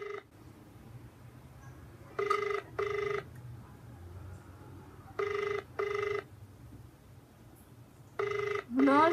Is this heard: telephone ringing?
yes